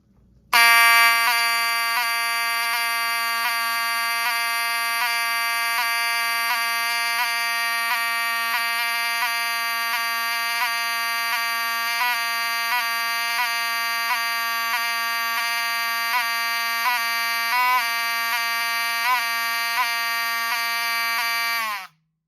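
A loud Wheelock electronic fire alarm horn blares continuously with a buzzy, harmonic-rich tone and a faint repeating skip in its rhythm, heard alone for about twenty seconds.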